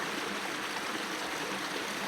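The Falls of Monzie waterfall pours through a gorge as a steady, dense rush of water, close and even throughout with no voices.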